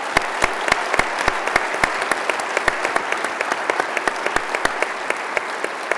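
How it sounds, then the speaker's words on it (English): Sustained applause from a large audience at a hospitality design expo keynote session, dense clapping with several sharp nearby claps standing out above the steady wash. "They're here, a lot of them, and they are to be applauded."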